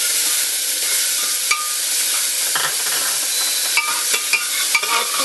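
Tomatoes frying with green chillies in a pan for sambhar, a steady broadband sizzle with scattered clinks and scrapes of stirring, continuous and fairly loud with no voices.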